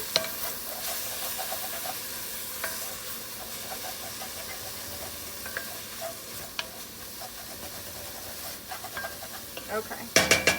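Wine poured into a hot pan of glaze for white chicken chili sizzles and hisses steadily, with scraping stirs and a sharper burst of sizzle near the end, no talking.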